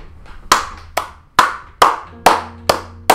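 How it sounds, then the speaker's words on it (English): A single person claps, seven sharp, close hand claps at a slightly uneven rhythm, each ringing briefly before the next, with no talking. "Let's give it a clap."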